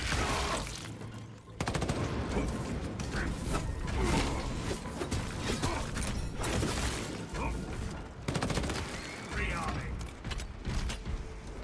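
Weapon reloading in the Warhammer game Space Marine 2 comes through as mechanical clicks and clacks buried in dense, continuous battle noise and gunfire that runs throughout at steady high loudness.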